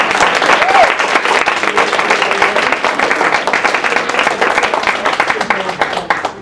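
Loud, dense applause from a crowd fills the room for a speaker at a fundraising professionals' program, continuous and close throughout.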